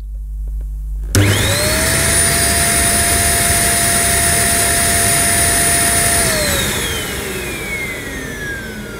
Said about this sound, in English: to see what suction power this little Vax Power Reach has